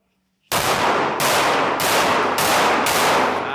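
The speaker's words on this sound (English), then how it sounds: "So this time, move, sight picture, start firing." Pistol shots fired during a moving shooting drill, five sharp loud reports after a quiet start, evenly spaced about half a second apart, close and ringing out on their own.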